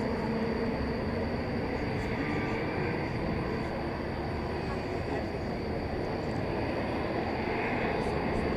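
A Fiji Airways Airbus A350-900 jet runs with a continuous broad roar and a faint high whine, steady and moderately loud throughout, with a voice speaking briefly over it.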